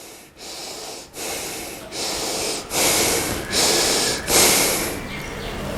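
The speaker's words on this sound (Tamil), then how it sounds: "கண்களை மூடி மெதுவாக மூச்சை உள்ளெழுத்து மிக மெதுவாக மூச்சை வெளியே விடுங்க" Deep breathing during Kubera mudra practice, heard as a series of loud, airy breath pulses close to the microphone, separated by brief pauses.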